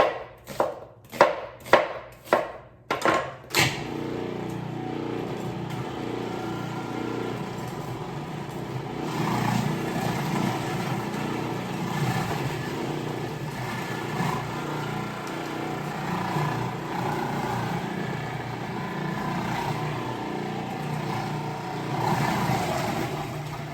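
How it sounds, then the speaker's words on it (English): A food processor pulses red onion with several quick loud bursts of chopping, followed by a long stretch of quieter steady motor-like hum. "So that's the last I'll need of my food processor here."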